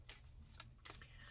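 A deck of tarot cards being shuffled by hand, heard as a few quick, soft riffling bursts that are faint and close.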